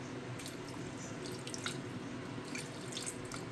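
Water trickles and splashes into a pan of jaggery nearby, a low steady pour with scattered drips over a faint background hum.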